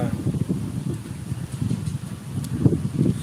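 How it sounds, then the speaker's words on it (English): Outdoor wind buffeting a microphone on a warm day, a steady low rumble with gusty swells and no voice. "It's a little windy out here"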